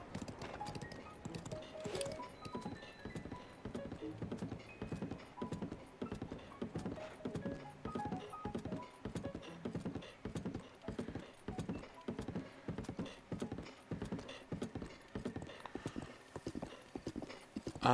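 The Lynel, a large horse-bodied creature in the Breath of the Wild video game, trots with a steady, even clip-clop of hooves that goes on throughout, faint and at a constant pace, with no talking.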